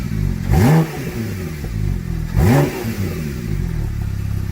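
A Porsche 911 Turbo S with a SpeedTech exhaust on a stock tune, in Sport Plus mode, revs twice in quick succession. Each rev is a loud, deep surge that falls back to a rumbling idle between blips.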